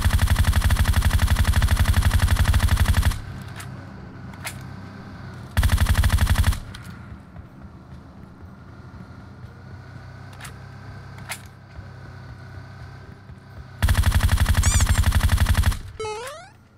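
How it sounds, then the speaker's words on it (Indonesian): Rapid automatic gunfire in the video game PUBG, several sustained bursts of dense rattling shots separated by quieter gaps with a few isolated single shots, loud and harsh against a faint background. "Ada yang nembakin ya jauh nih."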